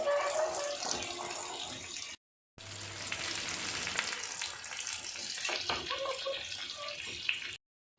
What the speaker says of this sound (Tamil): ஃப்ரை பண்ண எல்லா ஃபிஷ்ஷையும் சாஸில் 1 minute நல்லா திருப்பி போட்டு எடுத்துங்க